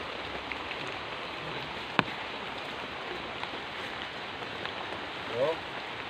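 Heavy rain falling outdoors at night during an exploration trek, a steady hissing wash of rainfall with a sharp knock early on and a brief faint tonal chirp near the end.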